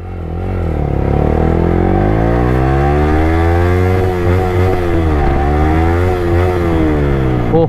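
A Yamaha R15 V3 motorcycle fitted with a loud Akrapovic exhaust accelerating while being ridden, its engine note climbing steadily and dipping between gear changes in a continuous, raspy roar; close and loud with no talking.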